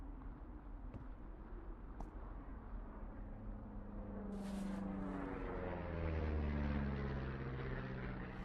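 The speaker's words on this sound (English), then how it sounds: "You see that plane?" Propeller airplane flying overhead in the video game Firewatch, a low droning engine that slowly grows louder and shifts in pitch as it passes, heard alone over faint outdoor ambience.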